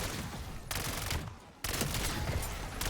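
Submachine gun fire in the Call of Duty Black Ops 7 Zombies game, long rapid bursts of close, loud automatic shots with a short pause between them.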